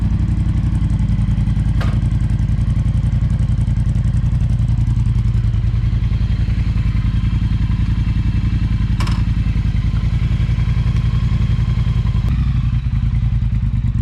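A Triumph T-120 motorcycle fitted with an X-pipe exhaust runs steadily, its low, throbbing engine note loud and close for the whole stretch, with a few sharp clicks and clatters on top.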